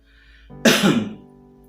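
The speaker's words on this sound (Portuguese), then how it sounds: "O pastor está dando umas tossidas" A pastor coughs during an online Sunday school church service, one harsh, loud burst of coughing that trails off quickly, heard alone with no talk.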